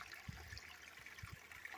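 Water trickles through a small creek on a garnet mine hillside, a faint continuous babble with a few soft low bumps.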